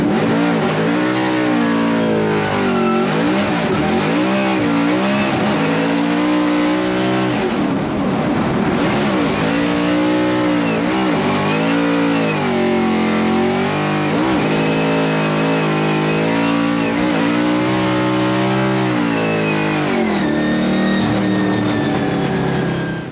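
A Ford Mustang RTR drift car roars continuously while accelerating through a corner, its engine rising and falling in pitch over loud tire noise, close and sustained with no talking.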